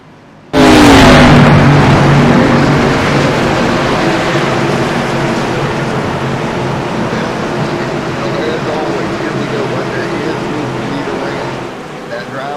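Sixteen race cars roaring at Daytona in a WOSCRL Stars & Stripes Series event, a loud dense engine drone that swells in suddenly and holds steady, with commentary running over it.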